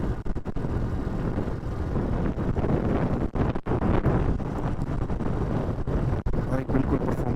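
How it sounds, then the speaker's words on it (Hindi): Cold wind buffets the microphone on a motorbike ride up the mountain road from Leh to Khardung La in Ladakh, a loud continuous roar with sharp gusty dropouts and low rumble. "बहुत ठंडी हवा है"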